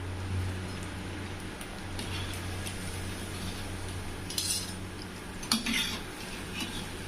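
Vegetable Manchurian balls fry in oil in a pan over medium flame, a low steady sizzle broken by a few sharp metal clinks of a spoon against the pan.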